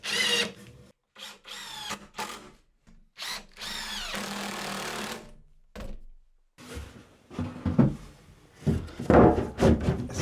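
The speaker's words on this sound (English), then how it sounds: "So now I'm just going to get a few screws in to lock this into place." A power drill drives screws into wood while a garden bench with storage is assembled, in several short whirring bursts with pauses between, fairly close and loud, with clattering handling noise toward the end.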